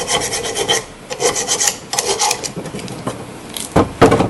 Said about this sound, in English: If you don't have a file, use sandpaper to clean it out a little bit.